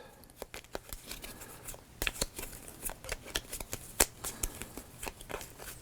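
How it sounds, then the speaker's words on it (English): Cards for the Sine Tempore board game are shuffled by hand, giving close, dense riffling crackles and snaps in quick bursts for about six seconds, with no talking. "And then we'll shuffle the cards back up."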